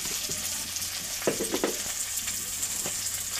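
Onion, tomato and ginger paste fry in a pan with a constant bright sizzle, and a spoon stirs them in a short cluster of scrapes and knocks midway.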